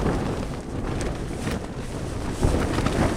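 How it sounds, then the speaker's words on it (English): Gusty night wind buffets the area outside a tent beneath bluffs, a dense, steady roar with surging gusts and rumbling microphone buffeting, no voices. "It's another very, very gusty night."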